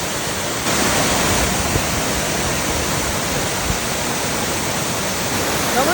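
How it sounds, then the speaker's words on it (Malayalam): Kemanaballi waterfall in Sullia roars as a loud, dense, unbroken rush of falling water, close and constant from start to finish, with no voices. "വളരെ അടുത്തായിട്ടുള്ളൊരു വെള്ളച്ചാട്ടമാണ്"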